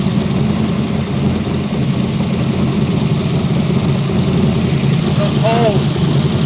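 The 800 HP NASCAR engine in someone's Cobra idles loudly and steadily after start-up with a deep, even rumble, while people talk over it.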